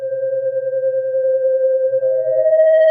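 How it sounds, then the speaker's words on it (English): A single pure, steady sine-wave tone from an Audiothingies MicroMonsta 2 synthesizer holds alone, stepping slightly higher about two thirds of the way through. "So this is the pure sine wave"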